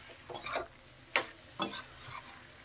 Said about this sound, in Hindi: इसमें 2 टी स्पून टमाटो केचप, इन सबको भी हम मिक्स कर लेंगे।